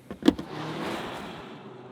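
Mazda CX-80 plug-in hybrid moving on the road, a brief knock near the start then a steady broadband cabin rumble of tyres and wind that holds throughout and slowly eases.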